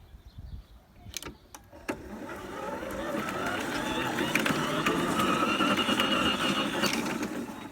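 Greenworks 60 volt battery self-propelled lawn mower spooling up: a few clicks and knocks, then a motor whir that rises gradually and holds a steady hum, close and fairly loud.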